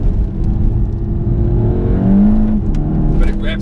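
A 2019 VW Golf GTI TCR engine revs up keenly in gear, a loud, steady rising drone with a voice speaking faintly underneath.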